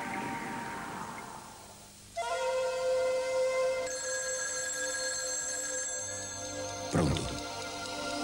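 A telephone rings in an Italian TV broadcast from 1988, loud electronic ringing tones sounding alone in steady bursts with a sharp crackling hit near the end.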